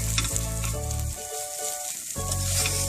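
Tarhana soup base with black-eyed peas roasting in a pan, a loud, continuous close sizzle broken by stirring scrapes and short dips in intensity, with no voices.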